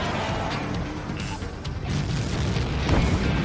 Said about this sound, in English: Bunker buster away.